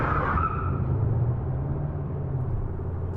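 A car speeds away with tires skidding in an audio drama scene, a loud, steady engine rumble with a brief squeal near the start and no talking.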